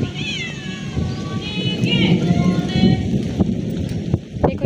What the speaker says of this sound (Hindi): देखो इधर से बारिश पानी जा रहा है